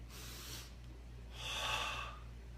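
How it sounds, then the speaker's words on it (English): Deep breaths taken during a meditation breathing exercise: one long airy inhale or exhale, a pause, then a second, louder and stronger breath, close up, over a low steady hum. "You do the same breathing technique."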